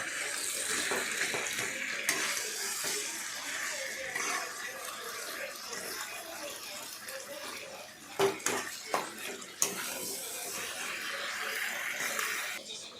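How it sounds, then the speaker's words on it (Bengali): A catla fish head is stirred in a cooking pot, giving a steady wet sizzle and scraping, with a few sharp metallic clinks near the end. "কাতলা মাছের মাথাটাকে দিয়ে ভালোভাবে নাড়াবেন"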